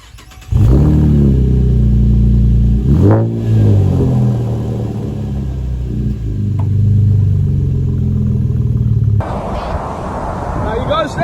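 A V6 car engine fitted with a Spectrum Max Energy 3000 tune rumbles loud and close. It revs up and down repeatedly, then settles into a steadier drone as background noise rises.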